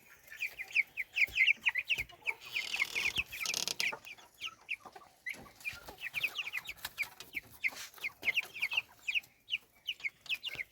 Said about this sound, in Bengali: দেখেন টাইগার মুরগি